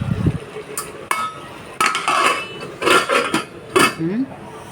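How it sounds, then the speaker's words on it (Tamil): A metal lid set onto a pan of crab gravy on the stove gives several sharp metallic clanks and clinks, close and fairly loud, with a short scrape between knocks. "இப்போ நான் வந்து மூடி போட்டு க்ளோஸ் பண்ண போகிறேன்"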